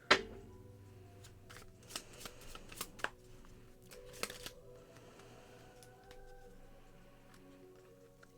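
Tarot cards being shuffled by hand in a quiet room, a run of soft riffling flutters and crisp snaps spread over several seconds, close and fairly faint, with no voices.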